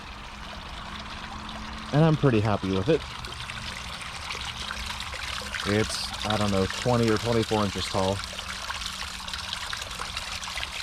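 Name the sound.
water trickling from small homemade garden waterfall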